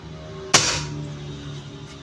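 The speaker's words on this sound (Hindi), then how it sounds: "ये आखिरी शॉट एक और चलाते हैं" An airsoft gun with Leviathan tuning fires one sharp, close shot that cracks suddenly and then fades into a faint lingering tail, with low background hum around it.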